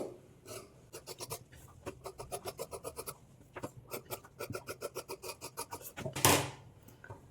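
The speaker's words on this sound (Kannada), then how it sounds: "ನಾನಿಲ್ಲಿ ಔಟ್ಲೈನ್ಸ್ ಮಾತ್ರ ಕಟ್ ಮಾಡ್ಕೊಳ್ತಾ ಇದ್ದೀನಿ" Scissors cut along the outlines of blouse fabric, a quiet sequence of crisp, rapid snips and rasping strokes in short rhythmic bursts, ending with a louder rustle of cloth.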